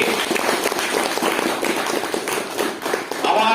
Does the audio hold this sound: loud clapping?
yes